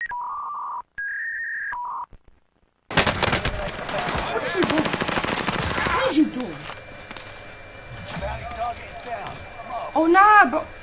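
Rapid automatic gunfire in Warzone's zombie mode, loud bursts of dense shots, with voices talking over the fighting after a short stretch of beeps.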